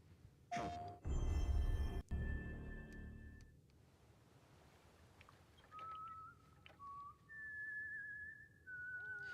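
In a video game trailer, a burst of noise gives way to quiet background, then a few clear whistled notes rise and fall in a short, thin melody.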